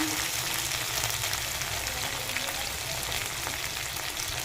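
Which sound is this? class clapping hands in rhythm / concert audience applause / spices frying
spices frying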